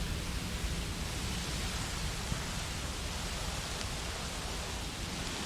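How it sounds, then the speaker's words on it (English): Steady rainfall in the dinosaur park-building game Jurassic World Evolution forms a dense, even hiss, loud and unbroken throughout with no other sounds standing out. "They're running around in the rain"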